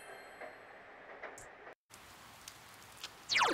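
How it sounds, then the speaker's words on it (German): Steady in-game rain from Persona 4 Golden, a soft continuous patter that cuts out briefly and returns, with a sharper chime-like sound near the end. "Es regnet."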